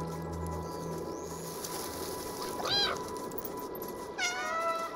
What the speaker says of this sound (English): Like a chain reaction of meows